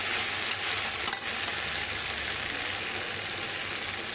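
Steady, continuous sizzle of fried eggplant going into a Malabar spinach curry with hilsa fish head, a dense frying hiss close up with faint stirring clicks and no talking.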